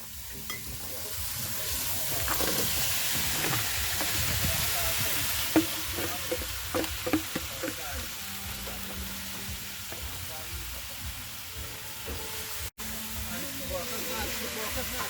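Goat meat sizzling and frying in a curry pot outdoors on a farm, a steady loud hiss with stirring scrapes and clatters, and people talking faintly in the background.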